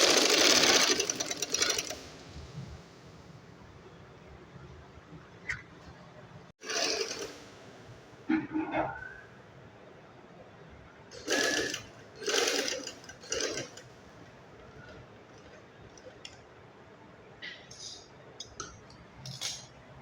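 Sewing machine stitching a child's shirt for an 8-year-old, heard in several short bursts with pauses between them, loudest at the start and fading to lighter runs later.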